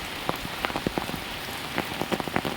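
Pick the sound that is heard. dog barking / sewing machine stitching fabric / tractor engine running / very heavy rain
very heavy rain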